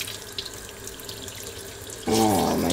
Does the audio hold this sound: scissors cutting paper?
no